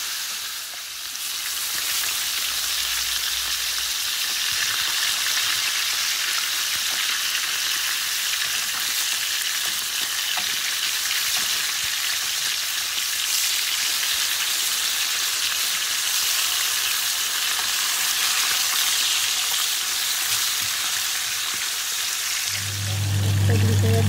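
Fish sizzling steadily in hot oil in a pan, a dense continuous frying hiss that stays loud and even throughout, with a brief low clatter near the end.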